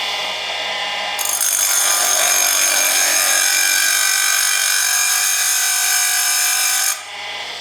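A grinding wheel works the gullets of a hard cutter, a steady bright high-pitched grind held continuously for about six seconds between quieter motor hum at start and end, no talk.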